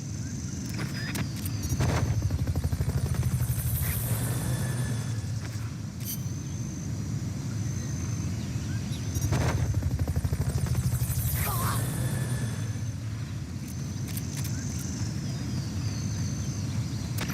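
A Fulton recovery helicopter in Metal Gear Solid Peace Walker keeps up a steady, close rotor rumble throughout, with a few sharp mechanical whooshes and clicks standing out over the drone.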